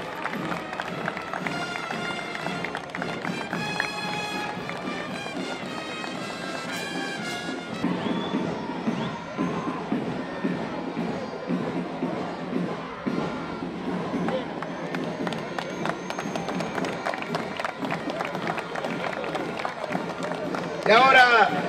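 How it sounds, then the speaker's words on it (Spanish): Crowd applause and cheers fill a stadium during the opening ceremony of a U14 Latin baseball tournament in Jalisco, Mexico, mixed with an announcer's amplified voice and music, with a louder swell of clapping near the end. "con el aplauso de todos ustedes"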